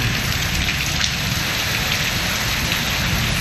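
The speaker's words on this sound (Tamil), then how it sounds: "வெளுத்து வாங்கிய மழையால் குளுமையான சூழல் உருவானது" Heavy rain pours down steadily during a sudden downpour in Thanjavur, Tamil Nadu, a dense, even hiss of drops with no gaps and no voices.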